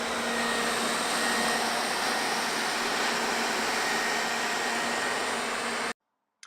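A Xiaomi Mi Robot Vacuum RoboRock S50 cleaning a floor at home, a steady close whirring hum of motor and suction that cuts off abruptly near the end.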